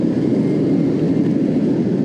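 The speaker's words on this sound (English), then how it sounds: "Train's going past, it's noise." A train rolls past in Belém, Lisbon, Portugal, as a loud, steady low rumble that fills the whole moment without letting up.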